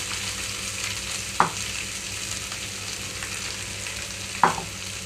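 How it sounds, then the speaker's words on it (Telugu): Chopped cabbage frying in about two spoons of oil in a pan, a low continuous sizzle close by, broken twice by sharp clinks of a utensil against the pan. "ఇందులోనే కట్ చేసిన క్యాబేజ్ మొత్తం వేస్తున్నాను"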